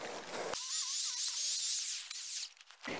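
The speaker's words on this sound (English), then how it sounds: "I'm drilling perpendicular with the rafter" A drill bores through a timber rafter for a dovetail log cabin, a loud, steady high-pitched whine that runs for over two seconds before winding down, with quiet handling noise on either side.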